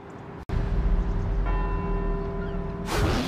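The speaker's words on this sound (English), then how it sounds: "let's see if we can visit every bell tower in Edinburgh and get back here before they all stop ringing" Church bells ringing across Edinburgh in the Forza Horizon 4 racing game, sustained tolling tones layered over a steady rumbling engine drone, with a brief cut near the start and a burst of louder noise at the end.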